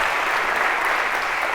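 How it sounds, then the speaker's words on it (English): Audience applause fills a lecture hall, a dense, steady burst of clapping from a large crowd held at full loudness for a short stretch, with no voices over it. "A round of applause."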